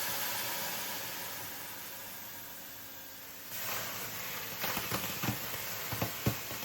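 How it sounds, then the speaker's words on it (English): Steam hisses from boiling water poured into a hot oven for baking several sourdough loaves, a steady broad hiss that swells midway and is followed by sharp spattering crackles and clatter nearby. "And now, boiling water and lots of steam."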